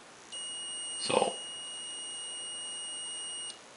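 A steady, thin electronic tone from an ignition timing tester holds for about three seconds while setting magneto timing on a classic OMC outboard motor, then cuts off; a brief louder burst of noise cuts across it partway through.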